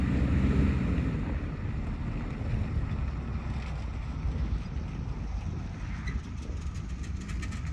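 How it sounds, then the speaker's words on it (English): Strong wind roars steadily outdoors during a vehicle traction-board test, buffeting the microphone with a loud, constant low rumble throughout and no talk. "The wind is picking up."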